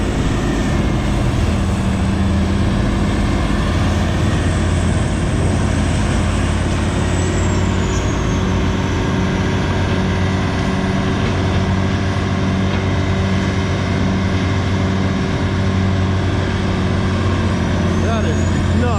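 A brush-clearing mulching machine with a roughly 1,050-horsepower engine roars steadily and loudly up close along an overgrown fence line, a continuous heavy drone with a faint whine rising and falling above it.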